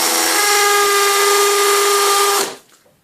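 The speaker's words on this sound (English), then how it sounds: "you're going to get lots of dust when you drill it with a masonry drill" A loud, high-pitched masonry drill whines steadily into a solid wall for over two seconds, then stops abruptly.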